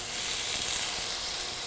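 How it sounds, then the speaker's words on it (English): Olive oil in a hot frying pan gives off a steady, bright, hissing sizzle that stays close and even throughout. "You want to hear that sizzle."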